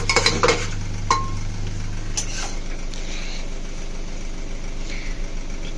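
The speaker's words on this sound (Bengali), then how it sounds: "এই যো চিকেন কষা তোলা হচ্ছে অর্কর জন্য" Chicken kosha is scooped from a pan with a metal spoon: a few sharp clinks and scrapes up front, then quieter stirring and rummaging over a low steady kitchen hum.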